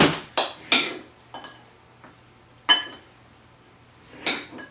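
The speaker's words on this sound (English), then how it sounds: "go ahead and cut these up a little bit. Just gonna use a steak knife." A steak knife cuts shirataki noodles on a hard surface, making a series of sharp clinking taps with irregular gaps between them, close and fairly loud, with no talking.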